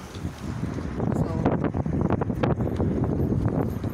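Strong evening wind in St. Petersburg buffets the microphone in loud, rumbling gusts with some crackling thumps, and faint voices may be buried in the noise.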